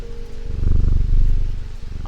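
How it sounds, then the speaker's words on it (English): A cat purrs in the video game Strange Antiquities, a loud, steady, close rumble that continues alone for about two seconds. "The cat purr, like, I don't know if it comes through on the speakers, but in the headphones,"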